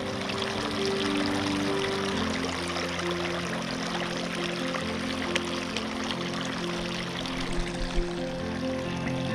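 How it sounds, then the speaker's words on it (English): Clarifier is poured into the water of an outdoor fountain, a continuous liquid trickle and splash that runs steadily, mixed with the fountain's flowing water and a low background hum. "we'll add the clarifier to the water within the fountain per the manufacturer's instructions on the back"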